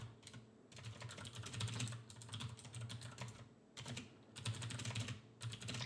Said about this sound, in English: Because I was just typing when it sent that done message.